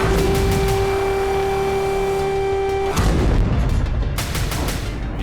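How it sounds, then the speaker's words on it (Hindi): Missile strikes set off explosions in Kyiv: after a steady tonal hum, a sudden heavy boom erupts, followed by another rumbling blast, both rough and noisy against a constant background roar. "यूक्रेन की राजधानी कीव में भी धमाके हुए"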